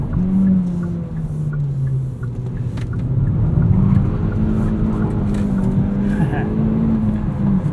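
A 2019 Hyundai Elantra GT N Line with a six-speed manual pulls hard up a highway on-ramp, its engine droning and climbing through the revs inside the cabin, with a shift partway through and someone talking over it.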